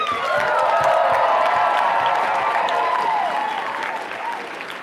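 Loud, dense applause with cheering and whoops from the audience at a national improv tournament night, sustained for several seconds and easing slightly at the end, with voices shouting through the crowd noise.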